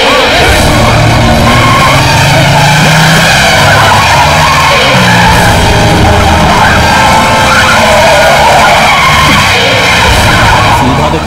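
Car tires skid and squeal through a loud, continuous engine roar during a driving scene in an Indian action film, the screech rising and falling over a dense low rumble from start to finish.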